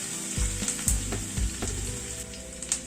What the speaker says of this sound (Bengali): ঘিটা গরম হওয়ার পরে একটা শুকনো লঙ্কা দিলাম, 1/4 টিস্পুন মেথি দিলাম, 1 টিস্পুন রসুন কুচি দিলাম,